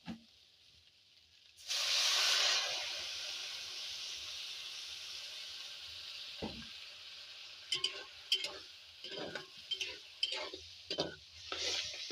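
Water hits a hot pan of frying bean curry and spices with a sudden loud hiss that settles into steady sizzling, with scattered spits and bubbling over the next several seconds.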